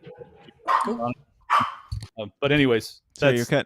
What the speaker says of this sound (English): The dog's barking, so I think my time's up.